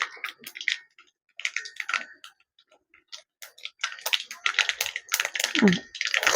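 Mustard seeds crackling in hot oil while a chickpea curry is cooked: irregular bursts of sharp, close pops and sizzles, sparse at first and then denser and more continuous, with a faint voice in the background.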